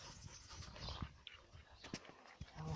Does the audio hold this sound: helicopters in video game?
no